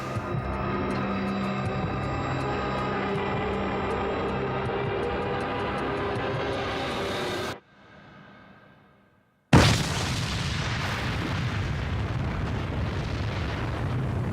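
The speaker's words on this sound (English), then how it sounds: "The plane exploded over rural Suffolk at 6:20 p.m. precisely." A plane exploding in the air over rural Suffolk: a loud, sustained roaring rumble cuts off into near silence for about two seconds, then a sharp loud burst erupts into a dense, continuous roar.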